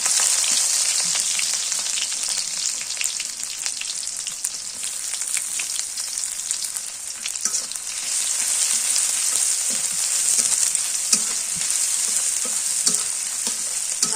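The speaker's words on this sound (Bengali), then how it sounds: "হালকা লাল লাল করে একটু ভাজি" Beef tripe and liver fry in spiced oil on a clay stove, giving a steady, loud sizzle with occasional stirring scrapes and pops throughout.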